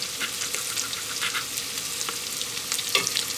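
Portuguese linguica sausage browns in a pan with a steady crackling sizzle and occasional spatula scrapes. Close and moderately loud, with no talking.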